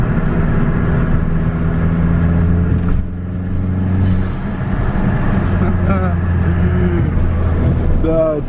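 A cheap, worn Volkswagen Mk4 GTI with a turbo engine hums and drones steadily from close inside the car, the engine note rising and shifting, while someone talks over it.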